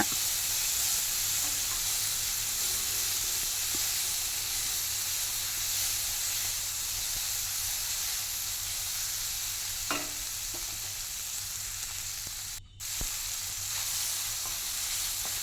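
Onions and medium tomatoes sauté in a hot pan for a homemade radish dal sambar, a steady broadband sizzle with occasional stirring scrapes, close and continuous with no talking.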